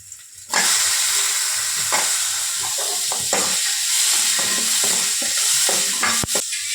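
Chopped tomatoes, onion and curry leaves sizzle and fry in a hot pan for a coconut sambar, a steady loud hiss that starts suddenly with intermittent stirring scrapes and clinks throughout.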